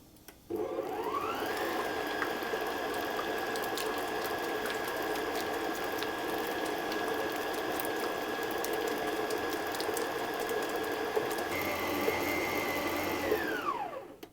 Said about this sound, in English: I'm going to slowly or gradually add my flour, and I'm going to keep mixing until it forms into a soft dough